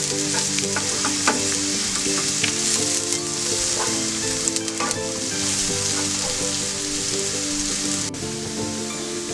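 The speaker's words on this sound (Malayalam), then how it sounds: "ഇനി നമുക്ക് ചെറുതായിട്ട് ഇത് മൂപ്പിച്ച് കൊടുക്കാം. ഈ എണ്ണയിൽ കിടന്ന് ഈ വെളുത്തുള്ളിയുടെ ഫ്ലേവറൊക്കെ നല്ലതായിട്ടൊന്ന് ഇറങ്ങട്ടെ." Chopped garlic sizzles in hot oil, a dense, crackling hiss that runs steadily throughout, with occasional stirring scrapes and soft pops close by.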